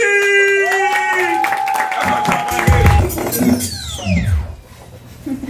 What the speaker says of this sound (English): I want you to clap until your hands bleed.